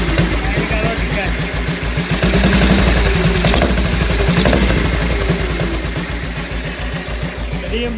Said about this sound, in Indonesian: Nah ini kalau digas.